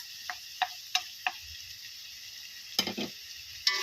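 Onions sizzling in a pan for adobo, a quiet frying hiss punctuated by a handful of sharp ticks and spoon taps, with a brief louder crackle near the end.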